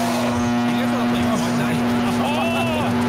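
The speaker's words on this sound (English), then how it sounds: "I hear a car" A steady car engine hum from a video game drones beneath excited voices, with a brief rising whine near the end.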